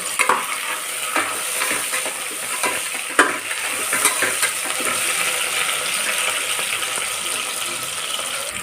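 Carrot, potato, beans and capsicum fry in a pan for veg biryani, a steady close sizzle broken by repeated scraping stirs of a spoon against the pan.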